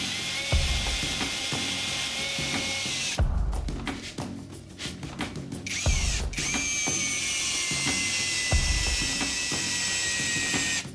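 A ROKODIL multi-tool screwdriver drives a 200 mm screw, its motor whirring and ratcheting close by in long bursts with brief breaks near the third and sixth seconds, and no voices.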